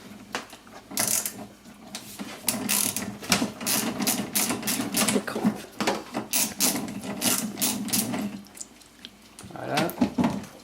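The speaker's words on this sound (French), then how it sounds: "Pour les extraire, il vous faudra un cliquet et une bouche de 13." A ratchet with a 13 mm socket removing nuts while replacing a car's front shock absorber, close repeated mechanical clicking in uneven bursts with metallic knocks, continuing for several seconds.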